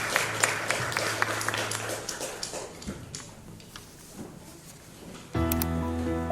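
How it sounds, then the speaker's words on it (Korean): A congregation claps at a Sunday worship service, with scattered sharp claps over a low hum that thin out, then give way to a loud sustained tone near the end. "예배를 받으신 하나님께 감사와 영광의 박수 올려드리겠습니다."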